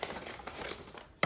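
Scissors snip through a large sheet of foil being trimmed for a homemade crown, a steady crinkling cut ending in one sharp, close snip.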